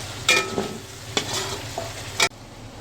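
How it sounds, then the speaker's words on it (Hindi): Ginger garlic paste frying in a pan for chicken karahi, a steady close sizzle broken by a few louder stirring scrapes, with no talk. "अब हम इसमें अदरक लहसुन पेस्ट डाल दिया है। अब हम इसको भून लेंगे।"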